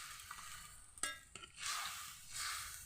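Fish going into a pan of cooking curry with water, giving a soft sizzling hiss with stirring scrapes and a couple of brief clatters; the frying swells in longer bursts toward the end, with no one talking.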